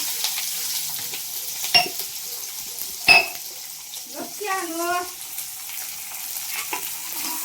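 Oil sizzles in a home kitchen pan with cumin and mustard seeds, onion and leaves going in, a steady close fry broken by a few sharp clinks of a spoon and a brief warbling tone, with a voice faintly in the background.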